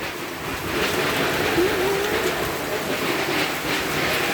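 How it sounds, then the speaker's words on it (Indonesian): Heavy rain with wind pouring onto a leaky hut during a communal fast-breaking meal, a continuous loud broadband hiss and patter that holds steady throughout with no clear voices. "Hujan, hujan."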